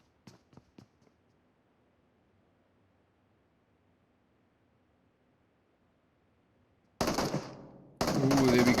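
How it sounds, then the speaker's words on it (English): Gunfire in the mobile battle royale game PUBG Mobile during a squad tournament match: a few faint early shots, then loud bursts of automatic fire after a long quiet stretch. "We got some shots now flying in"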